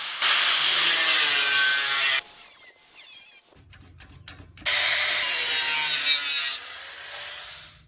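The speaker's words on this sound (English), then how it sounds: "Now I'll go ahead and cut and install those 30-inch stair treads." A saw cuts 30-inch wooden stair treads in two long, loud, rasping passes separated by a short quieter pause.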